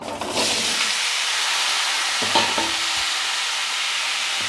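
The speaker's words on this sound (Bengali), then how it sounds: "সবজিটাকে এর মধ্যে আমি দিয়ে দেব দিয়ে ভালো করে ভেজে নেব সবজিটাকে" Cut vegetables tossed into hot oil in a pan for a papaya and hilsa fish curry, giving a loud steady sizzle with a sharp burst as they hit the oil and a few stirring scrapes, no voices.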